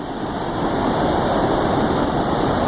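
Water pours steadily over the stone Manchester Bolton Bury Canal feeder weir, a constant close, loud rushing roar with no break and no voices.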